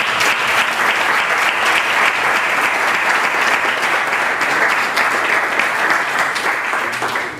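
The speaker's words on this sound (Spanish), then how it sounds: "me gustaría pues que diéramos un fuerte aplauso entre todos en reconocimiento a estos" A room full of people at a book presentation gives a long, loud, dense round of applause honoring a club's 114 years, the clapping sustained evenly throughout.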